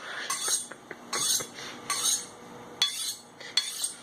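A knife slicing through a block of Spam on a cutting board, about five distinct cutting strokes in an uneven rhythm, each ending in a light tap, close and alone.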